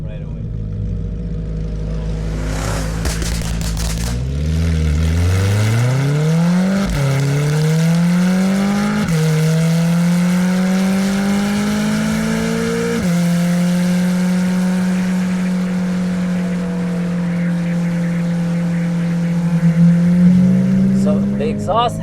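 Corvette C8 Z06 V8 revving hard through the gears, pitch climbing in steps with each upshift before settling into a steady high-RPM exhaust wail, loud and close.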